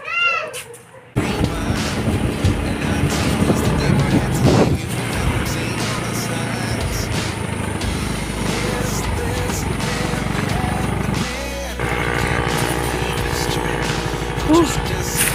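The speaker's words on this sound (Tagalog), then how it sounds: "So alis na tayo guys. Yan yung motor natin." A motorcycle ride heard from on board, with a continuous engine drone and wind noise running for most of the stretch, shifting in pitch as it goes, and people talking intermittently over it.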